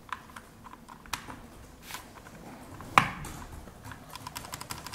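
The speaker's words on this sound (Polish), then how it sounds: "polega on na ciśnięciu go do płyty do momentu uzyskania charakterystycznego odgłosu, tak zwanego kliku" Quiet clicking and tapping with one sharper, louder click near the middle as a mechanical keyboard switch is pressed into the plate, amid soft scattered mechanical taps.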